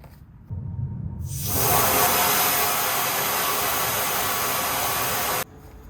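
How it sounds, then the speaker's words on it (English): Compressed air bursts out of a cabover truck's air system in a loud, steady hiss that starts abruptly, holds for about four seconds and cuts off sharply, with quieter background noise before and after. "I'm gonna go release the air from the truck."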